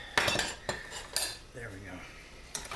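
Metal cutlery rattles and clinks as a spoon holder is handled in a kitchen: several bright, close jangles separated by short pauses.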